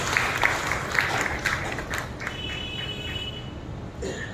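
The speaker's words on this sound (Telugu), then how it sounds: "చప్పట్లు కొట్టి ప్రభువును మహిమపరచాలి." A congregation at a Sunday church service claps together in steady, sustained applause that fills the room, with a faint murmur of the crowd underneath.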